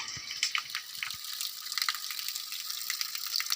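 Spring water trickling and splashing steadily from among tree roots in a Himalayan village, a continuous bright gurgle with small drips close by, heard alone with no talking.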